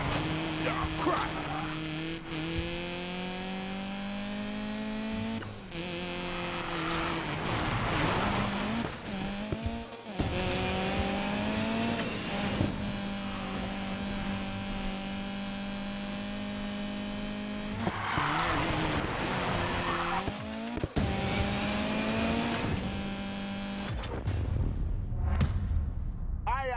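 Car drifting in the Need for Speed Payback video game, a loud revving engine with harmonic whine climbing and dropping through gear changes, broken by long tire squeals and skids on repeated slides, with a voice talking at times.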